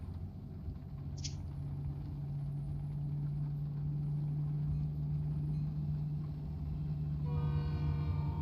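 A passing train rumbles steadily in the distance while a steady engine hum drones nearby, heard from inside a truck, with a faint horn-like tone and a brief hiss along the way.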